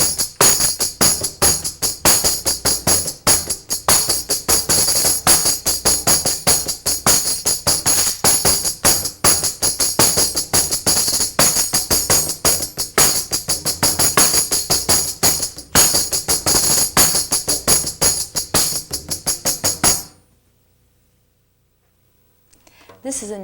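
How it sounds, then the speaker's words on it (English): A pandeiro-style tambourine, modelled on the Brazilian frame drum, is played with thumb, fingertips and heel in a fast, continuous rhythm of bright jingles and taps, loud and close, stopping abruptly near the end. "This is a tambourine that's based on a Brazilian drum called a pandeiro."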